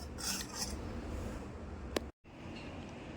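Prawn biryani being served from a pressure cooker onto a serving plate, with faint scraping and soft metallic clinks of a spoon against the vessel and a single sharp clatter, all at close range.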